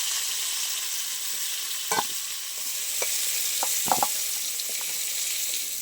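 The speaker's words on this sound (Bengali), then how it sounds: "আলু আর কলা একসাথে না ভালো করে লাল লাল করে ভাজা হয়ে গেছে" Potato and plantain pieces fry in oil in a pan, giving a steady close sizzle with a few light scraping stirs and clinks partway through.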